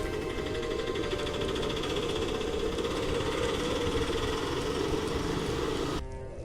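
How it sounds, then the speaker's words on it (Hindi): An auto-rickshaw engine idles steadily as it pulls up at a roadside tea shop on a cold morning after rain, a loud continuous rattling drone that cuts off abruptly near the end. "सुबह सुबह एक ऑटो वाला हरिदास की दुकान पर आकर रुकता है।"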